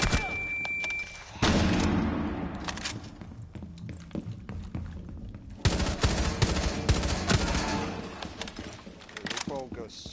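Pistol gunfire in the video game Rainbow Six Siege, a series of loud, rapid shots in bursts with short pauses between volleys.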